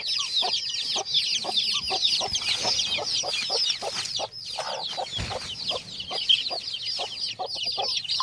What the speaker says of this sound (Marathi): यांची इतके वेळापासून चिवचिव चालू